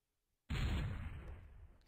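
A grenade detonates in Endless War 3 after a silent pause, one sudden loud blast whose rumbling tail fades over about a second, with no voice over it.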